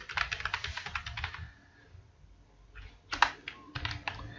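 Keys on a computer keyboard clatter in quick bursts as an ID number is entered, a rapid run of taps, a pause of near silence, then a few more clustered strikes close by.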